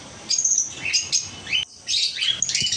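Small birds on a farm chirp and tweet close by in quick bright bursts, with brief pauses between the chirps.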